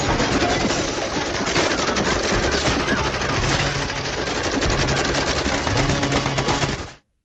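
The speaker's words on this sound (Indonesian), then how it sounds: "Suara rentetan tembakan menggema di seluruh rangkaian kereta" Sustained machine gun fire from an action film set aboard a train roars as a dense, continuous rattling burst, loud and close, running unbroken for several seconds before cutting off abruptly.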